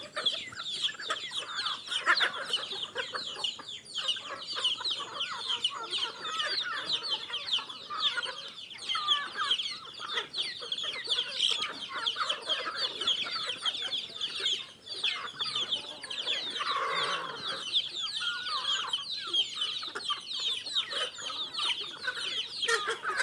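Chickens and a rooster clucking steadily on a farm raising large criollo hens, a dense flock chorus with overlapping calls continuing throughout at a fairly constant close level.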